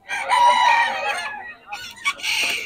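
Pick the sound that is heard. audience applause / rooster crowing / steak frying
rooster crowing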